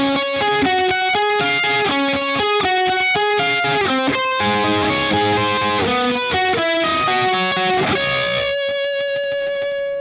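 An overdriven electric guitar plays the full intro riff with fast, steady picked arpeggio notes, loud and close, ending on a held ringing note.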